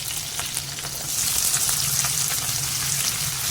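Garlic, curry leaves, chili and onion sauté together in oil for a raw jackfruit curry, a dense close-up sizzle that swells louder after a second and keeps hissing steadily.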